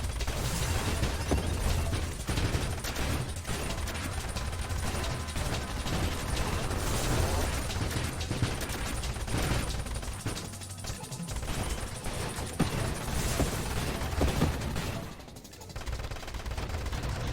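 A deployed turret fires in the asteroid-shooter roguelite Nova Drift, a dense, rapid stream of synthetic shots and clattering impacts layered over a low electronic rumble, continuous and loud with a brief dip near the end.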